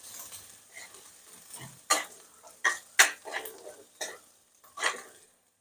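Fenugreek leaves with moong dal and garlic being stir-fried in a pan, a series of sharp scraping clinks of a spatula against the pan over soft background sizzle, with irregular strokes.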